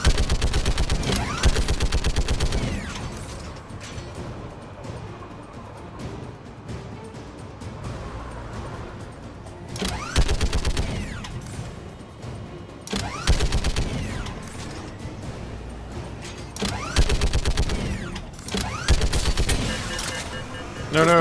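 Turret firing in Mass Effect 3, loud rapid bursts of automatic gunfire in several long volleys separated by short lulls, with faint voices in between.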